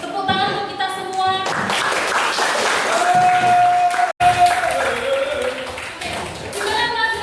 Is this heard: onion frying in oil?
no